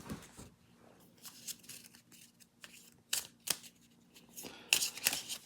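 Papery riffling and soft slaps of a deck of cards for a board wargame being shuffled, in several short bursts, close up, with no voices.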